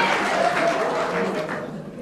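A German talk show's studio audience applauding steadily, a moderate wash of many hands clapping that fades slightly toward the end, with faint speech mixed in.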